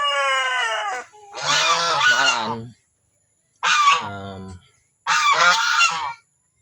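Domestic heritage chickens calling in loud, honking bursts, three separated calls close by, with a brief spoken word between them.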